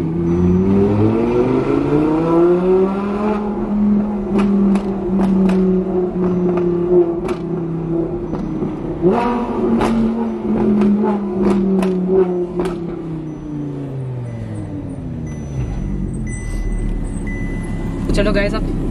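Engines rev and rumble in a race track pit lane, among them a loud BMW M3, with a steady roaring drone that rises and falls and sharp pops and bursts over it, while people talk throughout.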